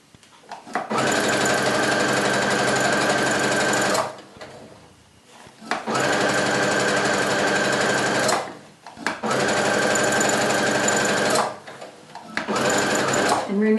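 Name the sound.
sewing machine stitching pajama pants seam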